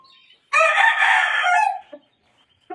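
A Raptor Sweater broodcock crows once, loud and close, in a long drawn call followed by a couple of short clucks.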